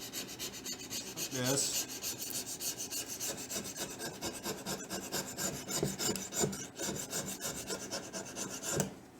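A hand scraper rasping an old finish off a wooden hand plane during restoration, continuous rhythmic close scraping strokes at a fast steady pace, with a brief spoken remark partway through.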